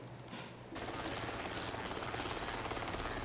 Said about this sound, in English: Is that some kind of cool new stealth chopper?